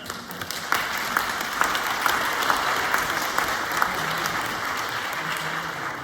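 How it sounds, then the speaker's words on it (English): A staff audience at a school professional development session applauds steadily, a dense wash of many hands clapping in a room, close and continuous with a few sharper claps standing out. "One more round of applause."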